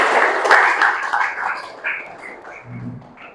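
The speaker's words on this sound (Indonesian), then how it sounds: "Tepuk tangan buat rekan kalian." Classroom applause from students clapping for their classmates, a dense burst of hand claps that is loudest early and gradually thins out, with a brief voice near the end.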